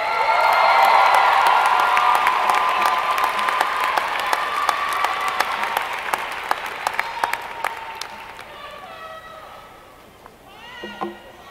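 An audience at the Rutgers 25th Annual Rites of Passage Ceremony applauds loudly as Michael Anderson takes the stage, the clapping fading out gradually over several seconds before a brief murmur.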